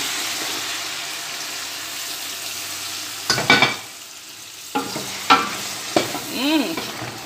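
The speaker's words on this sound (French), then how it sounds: "Donc, on va faire frire nos condiments." Condiments frying with meat in a pan for Cameroonian peanut and okra sauce: a low steady sizzle, then louder bursts of stirring and spattering with a few sharp clatters toward the end, no voices.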